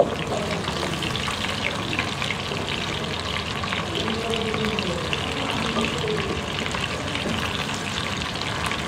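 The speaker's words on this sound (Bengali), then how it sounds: "চিকেনগুলো ভাজা খেয়ে হালকা সোনালি রঙ করে ভেজে নিচ্ছি" Chicken pieces frying lightly in a pan of hot oil for chilli chicken, giving a steady close sizzle with gentle crackle that holds at an even level throughout.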